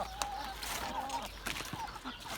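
Backyard chickens cluck softly and intermittently while being tossed fresh cabbage leaves, a few short calls close by over a low hum, all fairly quiet.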